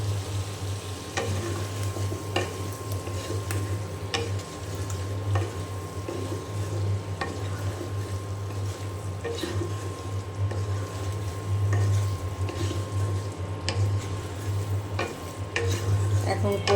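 Pieces of taro stir-fry in spiced oil for a tengra fish curry. A steady, close sizzle runs throughout, broken by intermittent scrapes and clacks of a stirring spoon.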